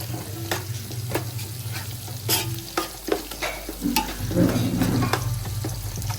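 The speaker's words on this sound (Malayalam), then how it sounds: "എന്നിട്ട് അതിൻ്റെ പച്ചമണം പോകുന്നത് വരെ ഇങ്ങനെ വഴറ്റിയെടുക്കാം" Garam masala and pepper sautéed in a pan for fish biryani: a steady close sizzle with repeated sharp scrapes and knocks of a spoon against the pan, with no one speaking.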